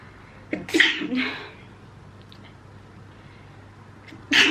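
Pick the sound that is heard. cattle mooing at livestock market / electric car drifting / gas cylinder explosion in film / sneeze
sneeze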